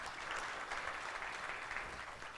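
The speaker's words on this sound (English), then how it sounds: "Big round of applause for what God did there." A conference audience on a main stage claps in steady, moderate applause throughout, heard from a distance and fairly soft, with no clear voices.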